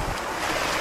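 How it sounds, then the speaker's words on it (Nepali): Rain falling steadily outdoors over flooded paddy fields during monsoon rice planting, a continuous broadband wash with wind buffeting the microphone, no voices. "पानी परिरहेको छ"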